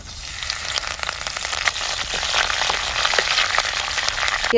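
A tempering of urad dal, mustard seeds and dry chilies sizzles hard in hot coconut oil, a steady close crackle and spatter that swells slightly throughout with no talk.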